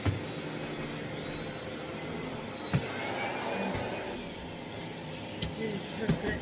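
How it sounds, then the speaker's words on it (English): A Miele Blizzard CX1 Cat & Dog PowerLine bagless vacuum cleaner runs continuously with a steady airy whine and rushing hiss, broken by a few brief knocks and bumps. "The vacuum cleaner gets rid of a lot of dirt with its turbo petrol."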